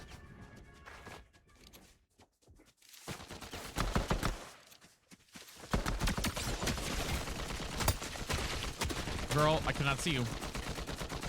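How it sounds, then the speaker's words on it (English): Gunfire in the Fortnite video game: bursts of rapid automatic shots and sharp single cracks, loud and close, with brief silent gaps early on and a voice speaking over the shooting. "someone's firing at me"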